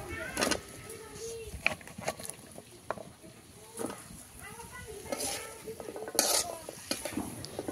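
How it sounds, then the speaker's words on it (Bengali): Washed radishes frying in a wok, stirred with a utensil in scraping bursts over a soft sizzle, with a few metallic clinks. "এখন আমি ধুয়ে রাখা মূলাগুলো কড়াইতে দিয়ে দিব।"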